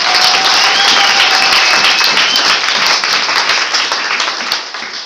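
A church congregation breaks into loud, dense applause nearby, a steady wash of many hands clapping that fades slightly toward the end.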